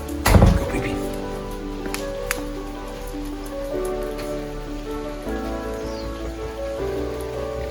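Rain falls steadily in a garden with a soft, even patter. A sharp knock sounds near the start, and a faint tonal hum runs underneath.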